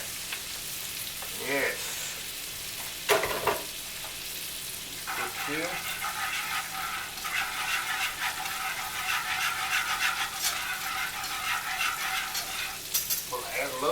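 Pork chops frying in a skillet of oil give a continuous bright sizzle and crackle, broken by brief clanks and scrapes of turning, with a few short spoken words.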